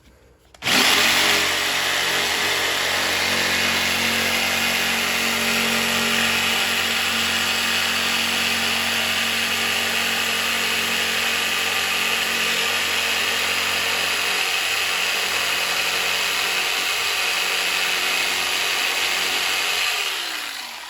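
A power tool cuts into the body of a 2002 EZGO golf cart to fit LED headlights and taillights. It gives a loud, steady, close whine that runs unbroken for about twenty seconds, with no talking.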